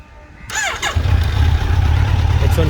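A 2020 Kawasaki Z900 motorcycle engine on stock exhaust cranks and fires up, then settles into a loud, steady rumbling idle close by.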